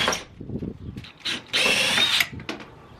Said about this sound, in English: What I've been doing is starting with a small drill bit and then moving to a big one, and it popped right out